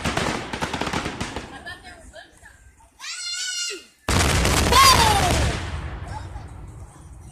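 Fireworks burst in quick crackling volleys that sound like gunfire. Loud dense pops come first, then a short whistling rise. After a sharp gap a second bright blast and crackle arrives and trails off, with people talking faintly in between.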